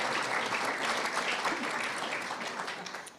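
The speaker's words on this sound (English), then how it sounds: "you can applaud if you want" Steady applause from the audience at an Ireland luncheon with the Irish Taoiseach, even clapping throughout that slowly thins toward the end.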